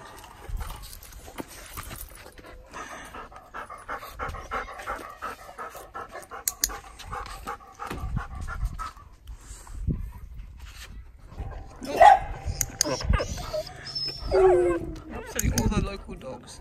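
Dogs pant and bark around a home while a person fits a front lead harness on a dog; the panting is loose and irregular, with a few sharper barks and whines near the end, mixed with voices and shuffling movement.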